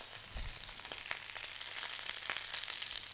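Artichokes frying in a pan for a warm herb salad, giving a steady close sizzle with scattered sharp crackles and pops throughout, no voices.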